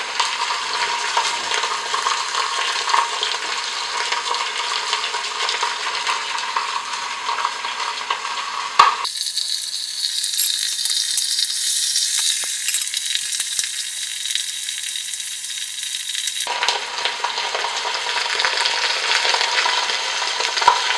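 Beef roast sears in olive oil for barbacoa, a steady loud sizzle and crackle that briefly shifts to a brighter, hissier spatter in the middle before settling back to an even fry.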